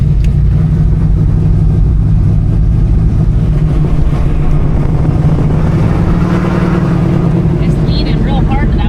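Chevrolet Nova project car doing a burnout, its engine holding a loud, deep, steady roar close by for the whole stretch with no break.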